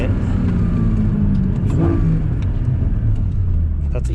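A Porsche 981 fitted with a Soul Performance competition exhaust, its valves closed, revs in sport mode with a steady, fairly muted engine drone that rises briefly, while people talk over it.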